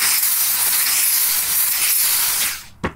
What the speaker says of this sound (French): On continue de mettre de la vapeur.